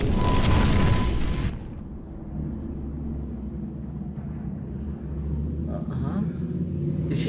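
A fire vortex attack from the anime That Time I Got Reincarnated as a Slime bursts as a loud roaring blast that cuts off sharply after a second and a half. A low rumbling tail and faint voices follow.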